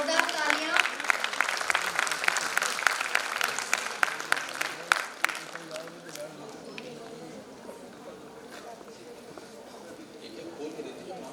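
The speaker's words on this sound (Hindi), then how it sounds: "जोरदार तालियां।" An audience at a homoeopathy ceremony claps in a lively burst to honour a guest, the applause loud at first and then thinning and fading out, with voices speaking over the tail end.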